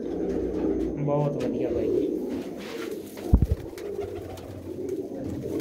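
Pigeons with bare, unfeathered feet coo softly close by in a Punjabi pigeon keeper's loft. A voice speaks over the low, throaty calls, and a short thump breaks in midway.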